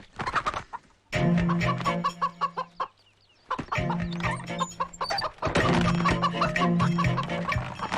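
A chicken clucks repeatedly in loud, close bursts with short pauses between them, heard alone without talk during a comedy scene from the Malayalam film Annan Thampi.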